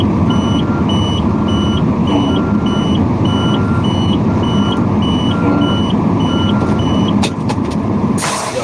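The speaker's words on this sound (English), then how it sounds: "Backing up is nothing in a straight truck." A straight truck backs up, its engine rumbling loud and close while the backup alarm beeps steadily at an even pace for several seconds, with a sharp hiss near the end.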